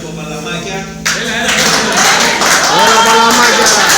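An audience claps steadily in time with a live Greek band, the rhythmic claps blending with loud music and singing throughout.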